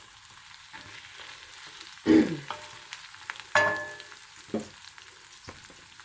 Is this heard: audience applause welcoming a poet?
no